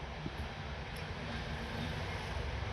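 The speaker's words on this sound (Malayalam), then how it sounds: "ഒരു അഞ്ച് മിനിറ്റ് കഴിഞ്ഞപ്പോൾ തന്നെ വേറെ ട്രെയിൻ വന്നു" A steady, broad rumble of a train rolling past near Parappanangadi beach, continuous and fairly loud, with faint high squeals above the clatter.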